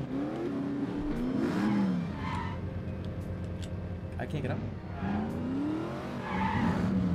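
A car in The Saboteur game revving and skidding with squealing tires, engine rising and falling in sweeps, while someone talks over it.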